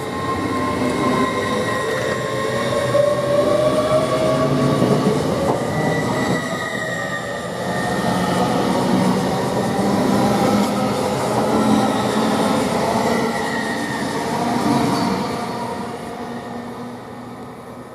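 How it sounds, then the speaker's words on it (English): An LNER train rolls through Grantham railway station with a steady rumble, squealing wheels and faint clatter, swelling and easing over the full length, no voices. "I do believe that's a train from Aberdeen."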